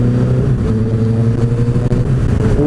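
A motorcycle fitted with new Pirelli Angel GT tyres rides at an easy pace, its engine giving a loud, steady drone close to the microphone, with wind rumble and slight rises in pitch, and no voices.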